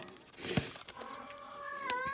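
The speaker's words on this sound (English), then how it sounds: "Excuse my cat." A pet cat meows indoors, a couple of short close calls including a rising, drawn-out whine near the end, with no talk over it.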